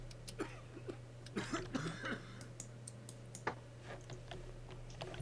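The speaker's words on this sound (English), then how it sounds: "You notice how everyone coughs a lot when this opens?" Scattered coughs and throat clearing from several people in a game elevator, sharp irregular bursts over a low constant hum, with faint clicking between them.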